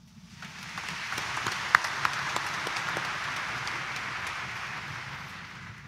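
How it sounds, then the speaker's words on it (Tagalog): Applause from a church congregation at a Friday morning Mass in Quiapo Church, a broad steady wash of clapping that swells in and holds for several seconds with a few sharper individual claps standing out. "pumalakpak ng malakas"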